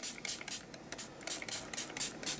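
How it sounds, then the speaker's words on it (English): A spritz spray bottle loaded with ink mixed with a little alcohol sprays in about nine quick, soft hissing pumps at an even rhythm, close and fairly faint, with no talk. "I'm just going to come in with this spritz spray,"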